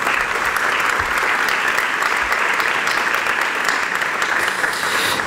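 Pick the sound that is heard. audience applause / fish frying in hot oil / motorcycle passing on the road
audience applause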